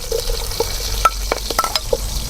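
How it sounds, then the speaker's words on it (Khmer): Spice paste of lemongrass, kaffir lime leaves, garlic, shallots and chili sizzles in hot oil in a pot while being stirred, with crackling frying and scraping stir strokes, for a Khmer sour pork soup. "មើលទៅប្រេងក្តៅយើងដាក់គ្រឿងយើងចូល"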